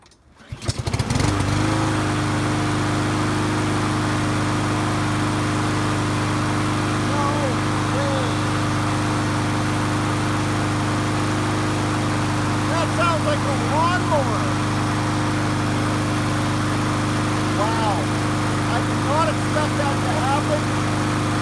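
A lawn mower engine that had no compression, pull-started with the choke on, catches after a brief cord rattle and settles into a steady, loud, close drone that runs throughout, with faint talk beneath.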